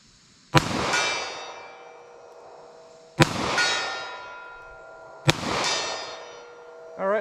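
A .38 Special snub-nose revolver fires at a steel target, giving three sharp clangs at irregular intervals. Each impact rings out with long metallic overtones that fade slowly, and a fourth strike begins just as the clip ends.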